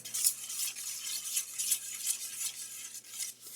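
Pizza sauce mixture stirred in a pan, making rhythmic soft scraping swishes of a spoon, repeating about every half second, close and fairly quiet with no voice.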